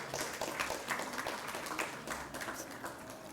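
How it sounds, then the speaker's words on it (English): A conference audience at an AI-in-healthcare session bursts into applause for an incoming guest, a steady patter of many hands clapping at moderate volume that fills the short moment without talk. "Let us welcome him with a huge round of applause."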